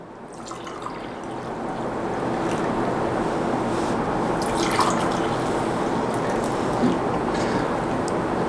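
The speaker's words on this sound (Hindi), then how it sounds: "मैं अभी इनको गिलास में डाल देता हूँ।" Homemade lemonade is poured into glasses as a steady, close splashing rush of liquid that keeps going for several seconds.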